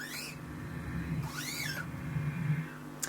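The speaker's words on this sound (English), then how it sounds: "I discovered that it does a breathing sound" Breathing effect from a Digitech Polara reverb pedal, airy sweeping swells rising and falling in pitch twice over a low sustained guitar tone, fairly quiet, with no voices.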